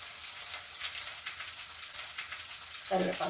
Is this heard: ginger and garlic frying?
yes